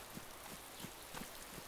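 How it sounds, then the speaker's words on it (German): Rain falling in the survival video game DayZ, a faint, even hiss with scattered soft patters of drops throughout. "Regen."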